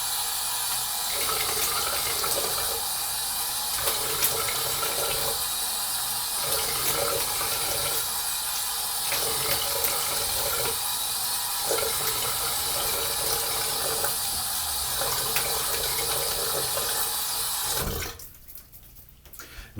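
Tap water runs steadily into a basin for a final rinse after a wet shave, a constant close gush with a faint pulsing pattern, then cutting off abruptly near the end.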